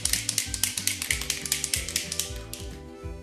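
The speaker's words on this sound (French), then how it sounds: "On agite bien la bombe" A red food-flocking spray can is shaken hard before being sprayed onto a frozen dessert, and the mixing ball clacks in a fast, even rhythm of about five knocks per second, close and loud, with no talk.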